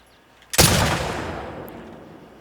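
A single loud gunshot from a firearm in the video game The Last of Us Part II, a sharp blast followed by a long decaying echo, heard alone.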